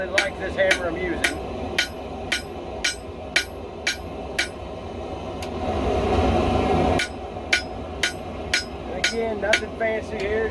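Hand hammer beating hot steel flat on an anvil: quick runs of ringing metallic strikes, near and loud, broken by a few seconds of broad noisy rumble before the blows resume.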